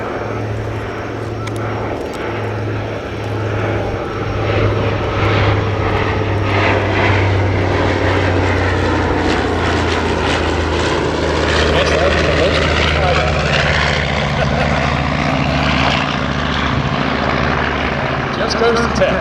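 A propeller airplane roars loudly overhead at an airshow, its engine drone steady and close with a low throbbing hum, rising and shifting as it passes.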